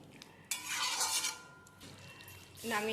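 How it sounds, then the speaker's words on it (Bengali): Paneer and potato curry with ghee and a little garam masala is stirred in a pan. Close scraping and clinking of the utensil sound over a soft sizzle. "এবার এটাকে নেড়ে গ্যাস অফ করে নামিয়ে"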